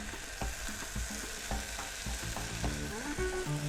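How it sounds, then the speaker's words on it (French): Onions and chili frying in oil sizzle steadily close by, with a busy crackle and occasional stirring clinks and scrapes. "On va mettre des oignons et piment."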